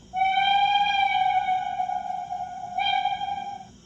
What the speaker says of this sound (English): F22 is another whistle.